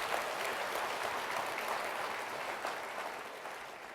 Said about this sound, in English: Give a round of applause for Michael, please.